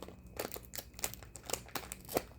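Crinkly plastic wrapper of a strawberry-flavoured Oreo cookie packet being torn open by hand, with a series of sharp crackling crunches spaced irregularly, close and fairly quiet.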